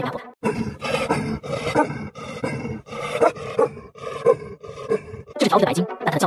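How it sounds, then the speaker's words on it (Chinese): An adult Tibetan mastiff gives a run of deep, rough, roaring barks, loud and close, repeating steadily in a fast rhythm with barely a pause between them. "这是小时候的天山獒犬，长大后叫声真是太压迫了。"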